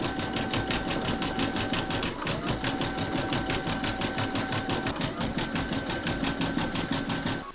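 An embroidery machine stitching metallic thread on a gingerbread house design runs a fast, steady, even needle rhythm, close and continuous for several seconds with a faint mechanical hum underneath.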